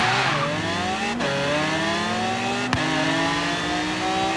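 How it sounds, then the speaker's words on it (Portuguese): A Lykan HyperSport roars during a street race, its engine revving hard and climbing in pitch through gear changes with two sharp shift breaks, loud and close without any talking. "Na moral, que ronco esse carro."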